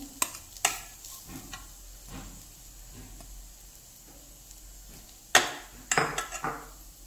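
Freshly grated coconut roasts in homemade ghee in a hot kadhai, with faint sizzling under repeated sharp clinks and scrapes of a spoon stirring against the pan, plus a louder cluster of knocks near the end.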